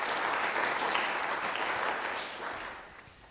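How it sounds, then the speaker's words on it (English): A warm round of applause welcomes a guest at a Purple Community Fund morning gathering: steady, dense clapping from a seated crowd that holds evenly, then thins and fades toward the end. "Jane, let's just give Jane a very warm round of applause."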